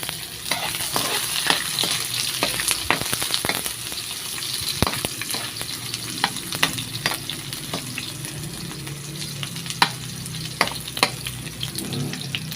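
Ingredients sautéed in a pan give a constant bright sizzle with frequent clacks and scrapes of a stirring utensil scattered throughout, close and with no one talking.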